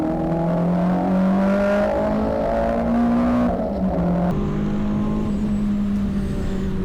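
A Renault Clio race car's engine drones steadily on track at Snetterton during a trackday championship race, loud and close from onboard, with the pitch shifting as it changes gear midway.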